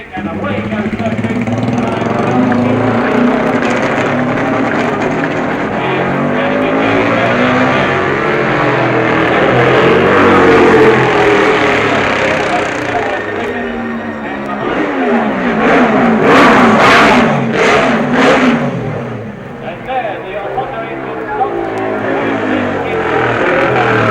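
Racing motorcycles pull out of and roll into the pits during the 1966 Isle of Man TT, engines revving and blaring loudly beneath continuous commentary, with rising and fading passes and bursts of acceleration.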